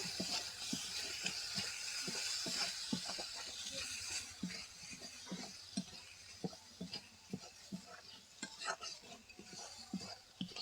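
A spoon scrapes and clinks steadily against a pot while mixing a mango and fish roe curry with ground ginger, garlic, dried chilli and cumin paste, with soft regular strokes and a faint sizzle beneath.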